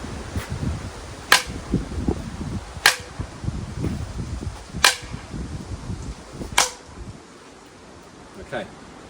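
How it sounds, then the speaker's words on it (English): A tennis racket is scraped and swung low along the ground. Sharp, cracking strikes land at about two-second intervals over a rough, scuffling bed of scraping and rustle, close and moderately loud. "what if we scrape it on the ground where we're going for a low shot?"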